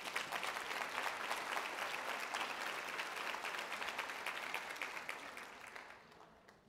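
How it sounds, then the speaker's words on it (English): An audience at an opening presentation applauds themselves in dense, sustained clapping that holds steady and then fades out toward the end. "So I want you to give yourselves a round of applause."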